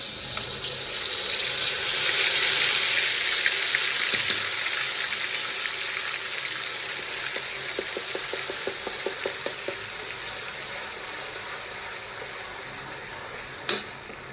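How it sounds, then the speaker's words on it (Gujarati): Green chillies sizzle in about 200 grams of hot oil, a steady hiss that swells then eases, with a few soft stirring taps and one sharp metallic clink near the end. "હવે હું મરચીનો વઘાર કરું છું"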